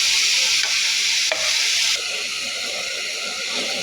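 Onion and ginger sauté in a hot pan with a loud, dense sizzle and hiss, dropping slightly in intensity after about two seconds, with faint stirring scrapes.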